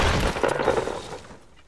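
Gunfire in Fortnite during a battle, a loud burst of crackling shots and impacts at the start that thins out and fades toward quiet by the end.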